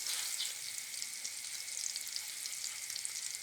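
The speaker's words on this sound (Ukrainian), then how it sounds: "Відправляємо на пательню подрібнений чесник і злегка його обсмажуємо." Garlic sizzles in butter in a pan, a close, steady crackling hiss that continues throughout with no voices.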